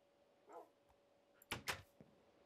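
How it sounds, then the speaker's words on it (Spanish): Dogs barking in a video game: one soft bark early on, then two sharp, louder barks in quick succession, with a faint knock at the end and quiet background between. "Ahí hay como dos perros."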